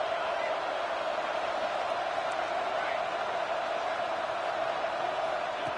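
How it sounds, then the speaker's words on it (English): Steady roar of a football stadium crowd at a Fresno State vs East Carolina game, a constant wash of noise that fills the whole stretch, with a commentator's voice over it. "Listen to the crowd energy here in the early going."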